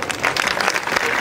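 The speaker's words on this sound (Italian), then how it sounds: "un applauso" Applause from the audience at the 2014 Marian song festival in Squinzano fills the moment as a keyboard-playing singer is introduced, a dense, steady wash of many hands clapping at close range.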